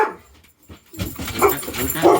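A Labrador barks and yips in short bursts close by in a workshop, loud and busy after a quieter start, with a brief spoken word at the beginning.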